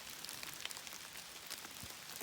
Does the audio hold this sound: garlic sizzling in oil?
no